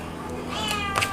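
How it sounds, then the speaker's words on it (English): A cat meows outdoors, a short, thin cry rising near the end, fairly faint against room noise and a quiet voice in the background. "There is a kitty outside."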